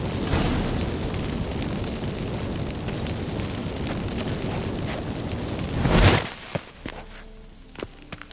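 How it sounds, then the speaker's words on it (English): Magic fireworks set off by burning incense in the video game The Witcher 3 give a dense, roaring crackle that swells into a loud burst, then fade to scattered faint pops and clicks, with no talking. "Get ready for some magic fireworks."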